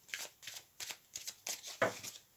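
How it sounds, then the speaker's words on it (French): Tarot cards are shuffled in about six quick riffling bursts, close and crisp, each a short papery flutter, with the last one slightly louder. "On va rebattre à nouveau."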